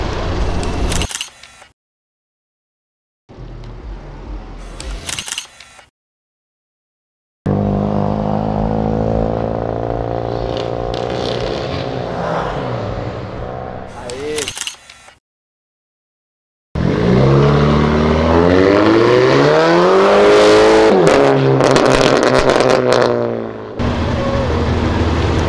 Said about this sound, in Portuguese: Olha esse fusquinha.